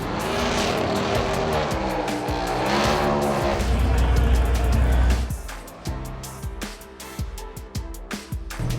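NASCAR stock cars scream past at race speed, loud engine roar swelling with rising and falling pitch, followed by sharp repeated rapid passes and clicking transients as the field streaks by close to the listener.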